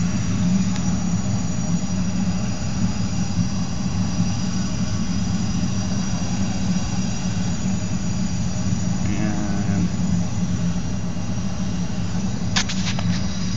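A top-loading propane forge burner idling at low pressure, a steady roaring hum running continuously with a low rumbling drone and hiss, holding an even level throughout.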